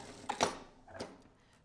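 A sewing machine runs a seam low down through two layers of fabric during a garment-assembly sewing workshop, giving a couple of short, quiet mechanical bursts of stitching with pauses between them.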